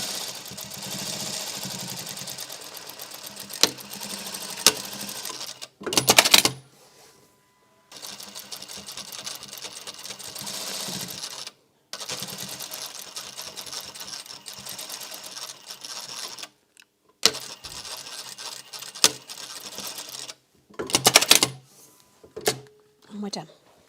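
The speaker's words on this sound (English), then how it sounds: "I'm just going to do one more line of stitching across about a foot's width all the way down" A sewing machine stitches pleats across a fabric face mask in several runs of rapid, close mechanical chatter separated by pauses and brief handling sounds.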